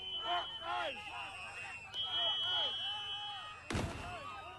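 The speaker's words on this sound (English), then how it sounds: "another firework going off." A single sharp firework bang bursts out near the end, over ongoing talk and a faint steady electronic whine.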